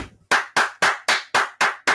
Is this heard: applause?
yes